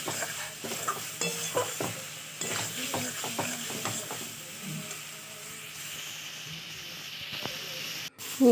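Egg chowmein mixture stirred in a pan as the water cooks off, with faint sizzling and scattered scraping strokes, gentle and close, ending in a sharp clatter.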